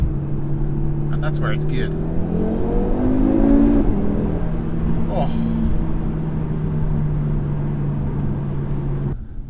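A 2019 Audi RS3 engine with a particulate filter revs hard above 4000 rpm and climbs in pitch, holds a steady drone, then cuts off. A person speaks briefly over it.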